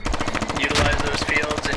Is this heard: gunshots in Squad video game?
yes